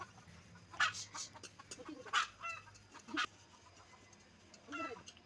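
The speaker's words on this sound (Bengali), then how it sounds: "ও ডাকার ভাবে বোঝা যায় যে সে বলছে আমি ডিম পেড়ে এসেছি" A hen clucks in loud, squawking bursts after laying an egg, three or four calls spaced about a second apart and then one more, fairly close in a quiet rural yard.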